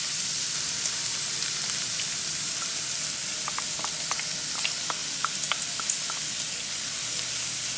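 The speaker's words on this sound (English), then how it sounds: "And let that start sauteing." Green peppers, garlic and onion sizzle steadily in a hot pan, a constant bright frying hiss with scattered small pops and crackles, close and without talk.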